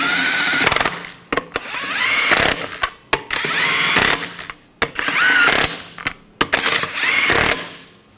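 Power tool snugging down the rear wheel lug nuts on a 2015-2020 Cadillac Escalade, four loud close bursts of whirring and rattling hammering, each stopping abruptly with short gaps between.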